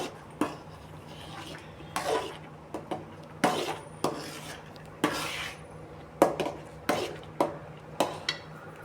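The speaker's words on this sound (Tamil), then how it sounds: "போட்டு நல்லா கிளறிட்டு நல்லா கிளறிக்கணுங்க" Kesari bath is stirred in a pan, with distinct metallic scrapes and knocks of a spoon against the pan in an uneven rhythm of a dozen or so strokes, close and clear over a low background hum.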